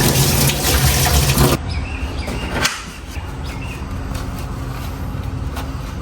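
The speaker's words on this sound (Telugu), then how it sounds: "సో ఇప్పుడు దీన్ని మనం కొంచెం వాష్ చేసుకున్నాం." Running tap water splashes steadily over a pumpkin being washed for kaddu kheer, loud and continuous for the first second and a half, then dropping to a quieter trickle with faint background noise.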